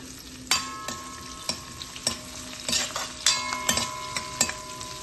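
Mustard seeds, cumin, curry leaves, garlic and onion frying in oil in a kadai for a Telugu ridge gourd dal, a steady close sizzle broken by repeated sharp clinks and scrapes of a spoon stirring against the pan.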